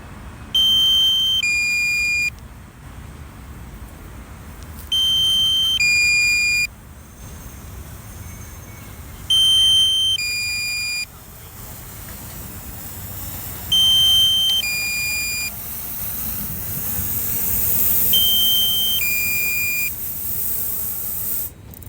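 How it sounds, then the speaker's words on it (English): Repeated bursts of high electronic beeping from a DJI Mini 3 Pro drone, several tones in short sequences, recurring about every few seconds over a steady buzzing drone hum. "My drone's gonna make beeping noises now"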